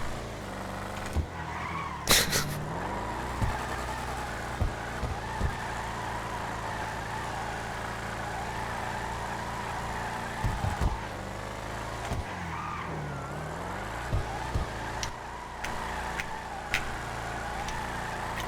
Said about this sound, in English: How about some donuts in the parking lot first?